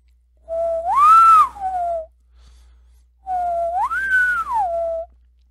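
A human voice imitates the high-pitched three-part low-high-low whistle of a legendary Alaskan creature, two clear whistles that rise, hold and fall, separated by a brief pause.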